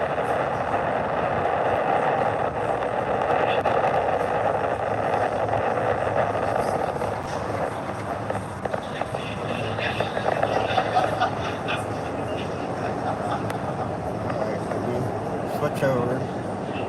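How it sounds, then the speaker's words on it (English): A SpaceX Falcon 9 Block 5 rocket lifts off from Launch Complex 39A with a sustained broadband roar and rumble heard from a distance, and voices are faintly audible over it. "Falcon 9 has successfully lifted off from Launch Complex 39A"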